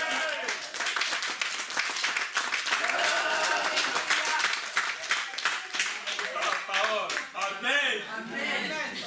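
A church congregation breaks into steady, dense applause that carries on throughout, with voices calling out under the clapping.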